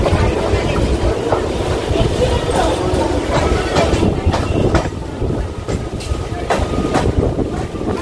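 A Katwa to Bardhaman local train runs toward Bhatar station, a loud, continuous rumble of rolling wagons with intermittent clicks from the rails.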